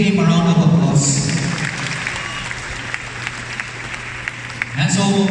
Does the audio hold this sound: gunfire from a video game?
no